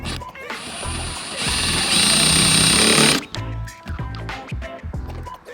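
A power drill drives self-drilling screws into a metal-framed RV roof while a roof vent is being installed. One loud, sustained, whirring burst lasts about three seconds, followed by quieter clicks and handling noises nearby.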